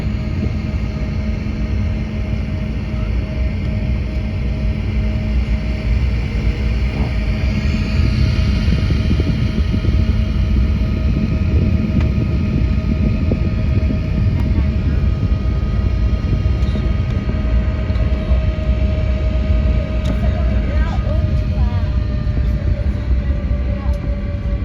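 A Kenya Airways Embraer E190 jet taking off from JKIA, heard from inside the cabin as a loud, steady engine roar with a continuous tonal whine that holds throughout, with no voices.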